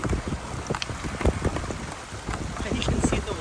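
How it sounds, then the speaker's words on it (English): Rain falls steadily near a horseshoe dam waterfall in spring, a dense patter of drops with wind rumble and scattered close splashes, with a faint voice underneath. "And it's raining."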